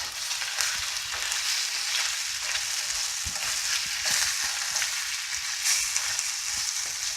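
Chicken pieces for kung pao chicken sizzle steadily in a hot pan, a continuous dense frying hiss with occasional scraping stirs of a spatula, close and unbroken, no talking.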